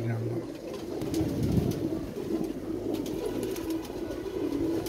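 Pigeons coo steadily nearby in soft, low repeated calls that continue throughout, with outdoor background noise.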